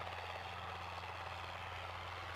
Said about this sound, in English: The chopper has arrived at Cashman.